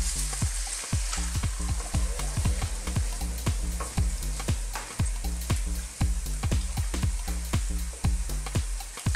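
Goat kaldereta sauce bubbles in a pan as a spoon stirs it in a steady, rapid rhythm of scraping knocks over a continuous frying sizzle, close and without talk.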